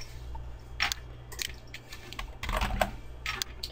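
Someone types an email on a computer keyboard, producing close, steady clusters of key clicks with brief pauses between bursts over a faint low hum, with no voices.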